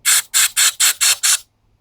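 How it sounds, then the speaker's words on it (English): Carb cleaner sprayed into a Tecumseh Snow King carburetor in six quick, loud, evenly spaced hissing bursts, close and alone, then silence. "I'm going to spray in some carb clean in there."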